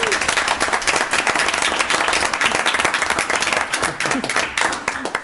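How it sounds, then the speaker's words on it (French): An audience at a municipal council meeting applauds, a dense burst of clapping from many hands that holds strong for several seconds, then thins slightly near the end, with no speech over it. "Oui, Corinne, on t'applaudit."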